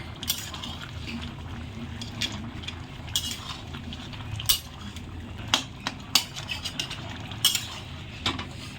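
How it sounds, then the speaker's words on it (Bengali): Tilapia and taro curry with cumin paste being stirred in a pan: soft background bubbling broken by intermittent clinks and scrapes of a metal spoon against the pan, close and irregular, with no speech. "জিরে বাটাটা দিয়ে দেবো এবার আমি নাড়িয়ে নেবো ভালো করে"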